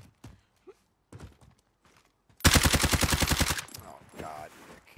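Rapid automatic gunfire in the Warzone video game, a loud sustained burst of evenly spaced shots lasting about a second, followed by fainter game sounds, with scattered talk before it.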